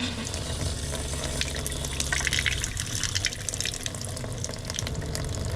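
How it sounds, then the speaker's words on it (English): Water filling an RV fresh water tank during dewinterizing gives a steady rushing, gurgling flow with splashy texture, continuous and close throughout, with no talking. "as the water is filling the tank, it's going to be compressing that air"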